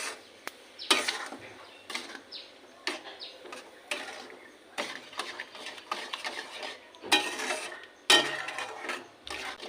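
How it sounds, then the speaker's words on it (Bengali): A spoon scrapes and knocks around a pan of mashed mango jelly mixture, giving irregular close clinks and stirring strokes with short pauses and no talk. "যতক্ষণ একটা থকথকে ভাব না চলে আসবে ততক্ষণ নাড়তে হবে।"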